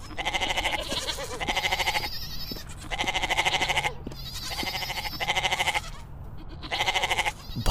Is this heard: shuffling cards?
no